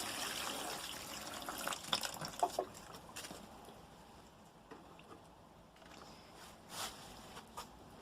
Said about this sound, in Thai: เสร็จแล้วเราก็รดน้ำก่อนที่เราจะเพาะเมล็ดค่ะ